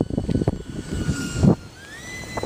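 An Art-tech Jetiger RC jet plane whines in short bursts, a thin rising engine tone with a few thumps and handling noises close by, its pitch climbing near the end.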